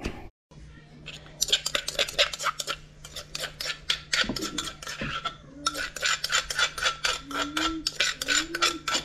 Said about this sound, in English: I gotta smash this eggplant.